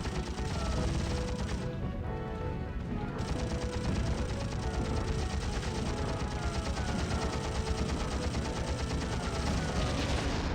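Rapid gunfire and cannon blasts from a 75mm gun in the PS2 game Heroes of the Pacific during the Battle of Iwo Jima, a dense continuous barrage of repeated bursts, loud and unbroken.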